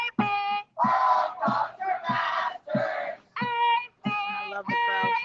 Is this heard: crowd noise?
yes